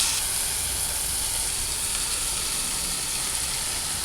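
Chopped potatoes sizzle steadily in a hot pan for a potato and cabbage stir-fry, a loud, even hiss of frying that holds constant with no voices.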